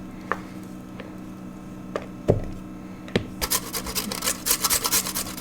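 Potatoes and onion for hash browns are grated against a metal grater, first with scattered scrapes and knocks, then a quick run of close, rhythmic rasping strokes.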